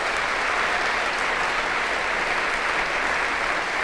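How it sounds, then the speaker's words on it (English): A large audience at a live football fans' forum in Brighton breaks into sustained, dense applause, loud and even throughout. "a big round of applause for the Albion"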